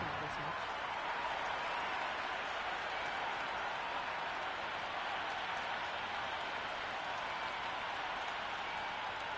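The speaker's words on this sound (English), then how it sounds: "already the crowd making a hell of a racket" Stadium crowd roaring continuously in the video game Cricket 26 at Harare Stadium before an under-19 ODI final, a dense, steady wash of cheering and clapping throughout, with commentary voices under it.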